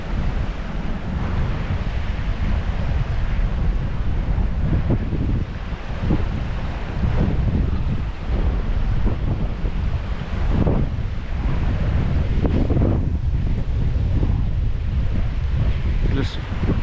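The River Wear at Croxdale rushes around a bend past a pebble island, a steady broadband wash of flowing water close by, roughened by gusts of wind buffeting the microphone.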